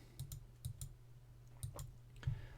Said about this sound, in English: you can hear me typing and speaking